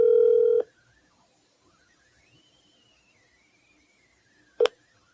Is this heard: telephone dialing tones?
yes